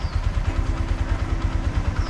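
A motorcycle engine idles close by in Da Nang, Vietnam, thumping in a steady, rapid low pulse.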